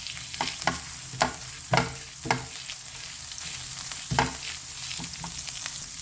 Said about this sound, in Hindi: अदरक लहसुन फ्राई हो चुका है